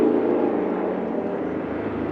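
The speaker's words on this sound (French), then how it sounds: "Excuse-moi de l'hélicoptère." A helicopter flies overhead, a loud, steady rumbling drone that fills the whole moment with no voices over it.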